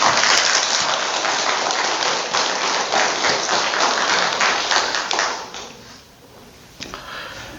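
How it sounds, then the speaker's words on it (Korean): Steady, loud clapping from an audience greeting the speaker at a Lenten special lecture in a Catholic setting, sustained for about five seconds before tapering into a few scattered claps. "큰 박수로 청해주십시오"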